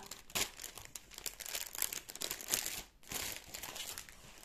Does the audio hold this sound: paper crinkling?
yes